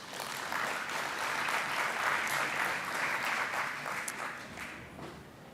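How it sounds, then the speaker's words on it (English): Audience at an internet governance conference panel session clapping steadily to welcome the panelists, a dense even wash of applause from a large room that tapers slightly at the end. "So a warm round of applause and welcome to our panelists."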